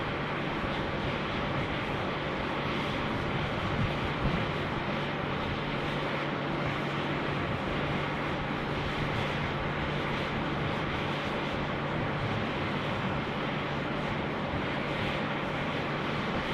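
A Fiji Airways Airbus A350 jet at Sydney Airport, heard as a steady, broad engine roar that holds continuously at moderate distance, with no talk over it.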